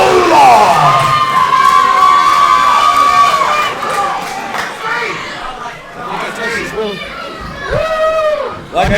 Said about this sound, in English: Ladies and gentlemen, a round of applause for the Bruiser, Barry Koloff.